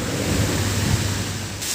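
Heavy rain and strong wind roar as a dense, loud, continuous wash of noise close by, with no break and no voices.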